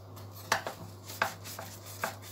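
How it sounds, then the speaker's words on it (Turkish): A knife slices through rolled baklava pastry made from ready-made phyllo, cutting it into small pieces with four crisp, separate cuts spread out over a couple of seconds against a steady low hum. "Ve bıçağımızla şöyle ufak parçalar halinde keseceğiz."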